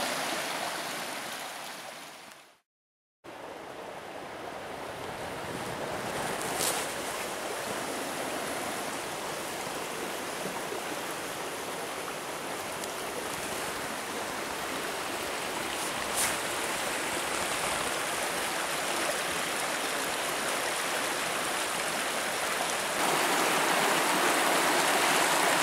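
A river rushes steadily beside a hammock campsite on the bank, a close, continuous broadband flow of water that holds for the whole stretch after a brief cut near the start.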